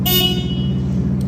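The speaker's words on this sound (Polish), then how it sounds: "klakson" A 2013 Yamaha YZF R125 motorcycle horn blares in one sustained honk, loud and close, fading out after about a second.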